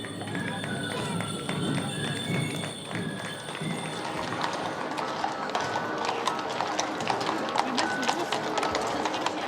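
Horses' hooves clip-clop steadily through the Georgiritt parade in Traunstein, with riders, drivers, flag wavers and sword dancers among hundreds of horses, the dense hoofbeats continuous and close amid a murmuring crowd and voices.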